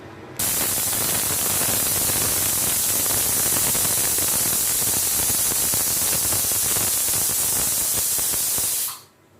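Kitchen pressure cooker letting off a whistle: a continuous loud hiss of escaping steam that starts abruptly and runs for about eight seconds before cutting off, with no talk over it.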